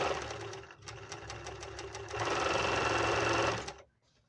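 A Panavox 482DF overlock sewing machine, being adjusted for thread tension problems, runs with a fast, loud mechanical whirr that speeds up midway and then stops abruptly, leaving near silence.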